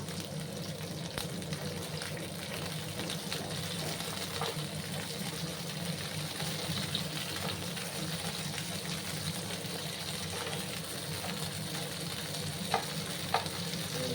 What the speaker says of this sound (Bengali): দুই মিনিটের মতো আমি ঢেঁড়সগুলোকে একটু ভাজা ভাজা করে নেবো